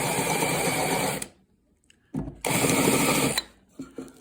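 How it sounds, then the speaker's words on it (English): A countersink bit spins in short bursts to chamfer the edge of a hole for a threaded insert, a close, buzzing whir that stops, pauses, then runs again for about a second. "countersink it just a little bit with this countersink and just take the edge off"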